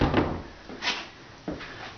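Built-in wall drawers in a house closet sliding and thumping, three muffled scrapes and bumps over two seconds in a quiet room.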